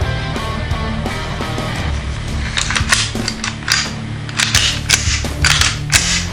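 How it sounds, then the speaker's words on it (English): Metal parts of a Glock 17 pistol clack and click together during reassembly on a tech table, a series of sharp, close mechanical snaps and slides in irregular rhythm with no talking. "Okay, so now what we're going to do is actually reassemble the pistol."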